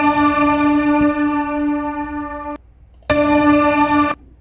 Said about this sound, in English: I end up with a pluck at the beginning and then almost like a pad or a sustained string sound tailing off